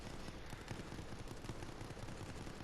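Sustained machine gun fire in the Resident Evil Resistance video game, a dense, unbroken rattle of rapid shots at moderate volume with no gaps across the stretch.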